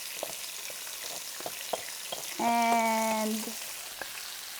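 Spinach tossed into a hot pan after tofu for a vegan breakfast, with a steady low sizzle, a few light clicks of utensils and a brief tonal hum partway through; no one speaks over it.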